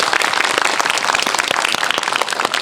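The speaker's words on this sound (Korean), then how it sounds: "신스텔라 전소희 배우께 큰 박수 부탁드립니다." A cinema audience in a CGV theater in Yeongdeungpo claps for an actress at a film anniversary Q&A screening, producing brisk, loud, close clapping with many distinct hand claps, sustained throughout.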